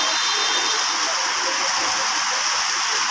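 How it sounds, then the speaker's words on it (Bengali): Heavy rain pouring down over Dhaka city: a dense, steady hiss and roar of downpour on surfaces, loud and unbroken throughout, with no pauses or individual drops standing out. "ঢাকা শহর প্রচণ্ড বৃষ্টি, আজ 2 দিন ধরে বৃষ্টি হইতেছে।"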